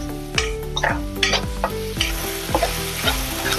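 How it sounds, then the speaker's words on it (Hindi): Ginger garlic paste sizzles steadily in oil in a pan while a utensil scrapes and stirs in repeated strokes, close and fairly loud, with no voices. "अदरक लहसुन को हमने भून लिया है।"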